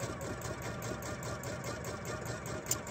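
A sewing machine stitching fabric pieces for quilt half square triangles, its needle running in a fast, even mechanical rattle that hums steadily and close by without pause.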